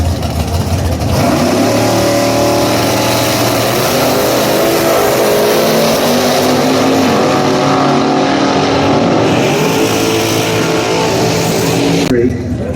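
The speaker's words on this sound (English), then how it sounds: "From Perrysburg, Ohio, the BMD Custom Design 1994 Camaro." BMD Custom Design 1994 Camaro at a Summit Motorsports drag race: a loud, sustained engine roar revving and droning over the track while an announcer talks over it.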